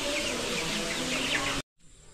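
A large flock of Sonali chicks on a poultry farm peeps and chirps in a dense, continuous chorus, loud and close, cutting off abruptly near the end.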